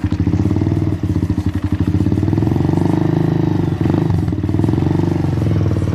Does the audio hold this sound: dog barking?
no